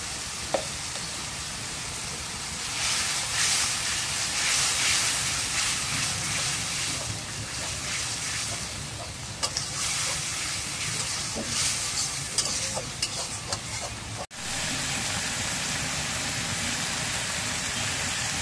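Onion paste hitting hot oil in a pan while fish is being cooked: a steady, close, broadband sizzle and hiss that swells strongly and persists throughout, with faint scraping and stirring ticks, and no talking.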